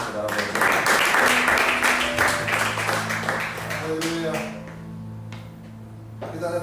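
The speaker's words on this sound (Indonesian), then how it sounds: "Tepuk tangan juga nggak apa-apa, saudara." A church congregation claps along during a sermon, with a burst of brisk, many-handed clapping that swells then thins out as a voice speaks and sustained instrument tones hold underneath.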